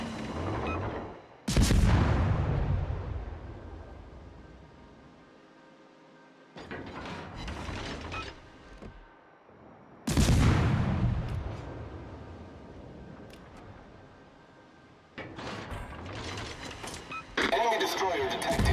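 Heavy naval guns boom from a destroyer in World of Warships, four loud salvos spaced several seconds apart, each with a sharp blast and a long rumbling decay, with a voice talking in the quieter gaps.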